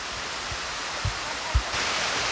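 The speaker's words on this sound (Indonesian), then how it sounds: "Saya baru pertama kali nih lihat air terjun ini." Steady broadband rush of a waterfall in Indonesia fills the clip, with a few soft low thumps partway through and the roar growing slightly fuller near the end.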